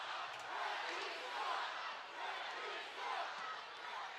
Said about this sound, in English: the crowd is in complete disbelief that that goal didn't count